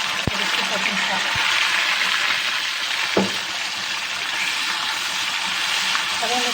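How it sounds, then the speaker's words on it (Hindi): Tomatoes, green chilies and masala going into a pan of frying garlic: a steady, loud sizzle with a few sharp clinks of a utensil, and a voice speaking over it. "लहसुन के कुक होते ही अब मैं इसमें ऐड करूँगी टमाटर और हरी मिर्च और इसके साथ मसाला।"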